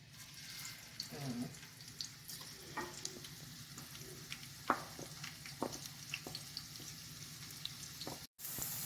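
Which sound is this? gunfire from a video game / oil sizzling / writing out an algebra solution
oil sizzling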